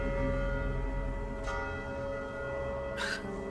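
Church bells ring inside a cathedral, a dense, sustained metallic hum with reverberant overtones, broken by two short bright shimmers and heard without any talking.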